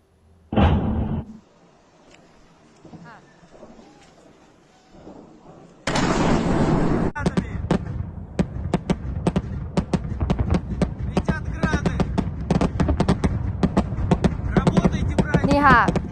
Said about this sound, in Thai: เสียงปืนเสียงระเบิดมีทุกอย่างนะคะตุ้มตั้มตุ้มตั้มกันหมด